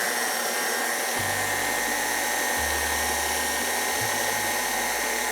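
An electric mixer beats a cream cheese and chocolate filling for a dark beer chocolate cake, a loud steady motor whir with the tone stepping down in speed a few times, no talking.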